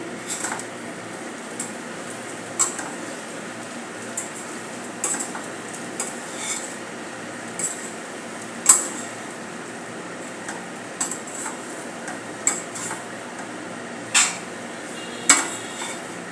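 Kanda poha, flattened rice with onion and spices, is stirred in a pan, giving a soft steady rustle broken by intermittent sharp spoon scrapes and taps against the metal.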